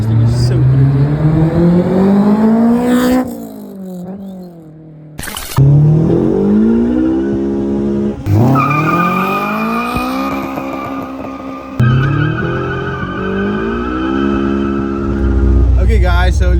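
A Honda S2000 accelerates hard through several gears, its engine note climbing loud and close in repeated sweeps, with brief lifts between shifts and a rumbling finish.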